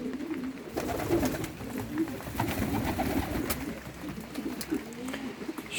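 Adana pigeons, young cocks, coo in low repeated bursts throughout, with steady coop rustle and a few brief sharper calls in the background.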